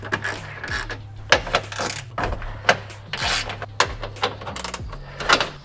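Wrench bolts being cracked loose on a cross-section radiator support during a Skunk2 intake install: a series of sharp ratcheting clicks and metallic snaps, close and fairly loud, with brief pauses between pulls.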